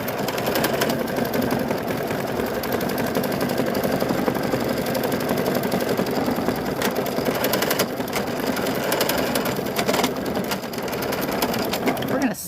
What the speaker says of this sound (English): you'll learn the sounds of your sewing machine